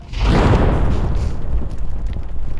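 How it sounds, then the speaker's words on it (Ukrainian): A grenade blast in the mobile shooter Standoff 2 booms up loud and close, then rumbles on in a long, dense roar that slowly thins out. "Кидаємо гранату."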